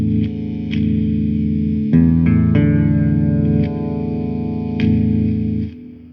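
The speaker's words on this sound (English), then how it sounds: "you put this in the neck position. You hear that sound difference? The sound gets way fatter" A Dean ML prototype electric guitar on its neck pickup plays warm, thick chords with effects and a chorus-like shimmer, strummed a few times and left ringing, no voices.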